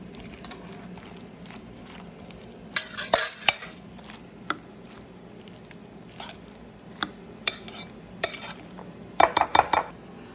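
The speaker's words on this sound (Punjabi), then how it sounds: "ਇਸ ਤਰ੍ਹਾਂ ਆਪਾਂ ਇਹਨੂੰ ਰਲਾ ਲੈਣਾ ਸਾਰੀ ਨੂੰ" Macaroni salad being stirred and mixed with a ladle, giving soft scraping and occasional sharp clinks of utensil against the bowl, scattered irregularly and close by, with no talking.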